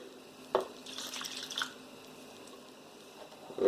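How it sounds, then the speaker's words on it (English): Milk pours onto raw meatloaf meat sitting in a bowl, making a brief close liquid splash and a soft squishing patter with no talking. "And I'm going to pour my milk on it."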